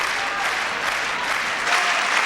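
Roland Garros tennis crowd applauding to lift Schwartz during a 1999 French Open match, a steady wash of clapping from a large stadium audience that holds strong and swells slightly near the end.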